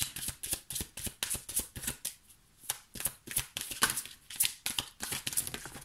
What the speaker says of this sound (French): moi, je bats les cartes pour vous les taureaux